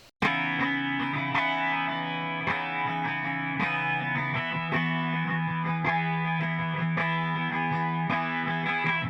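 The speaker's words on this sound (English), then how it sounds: "the clean guitar part is being strummed pretty heavily." Steady, forceful strumming of an electric guitar, chords ringing out continuously with a slight shimmering effect, rhythmic strokes sustained for the whole stretch.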